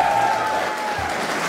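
Studio audience applause fills a Hamburg TV studio, a dense steady clatter of many hands clapping at close range for the whole stretch.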